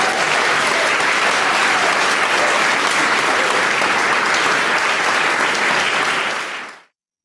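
Close, dense applause from a poetry slam audience runs on steadily for about seven seconds, then fades out quickly.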